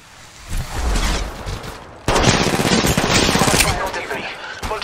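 Gunfire in the video game Apex Legends Mobile, a softer burst early on, then loud rapid automatic fire from about two seconds on, continuous to the end.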